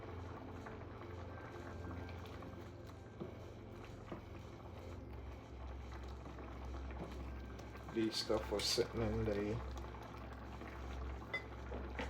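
A pot of jam boils with a steady low rumble and bubbling, a louder burst of bubbling and spattering briefly swells near the end; a voice speaks faintly.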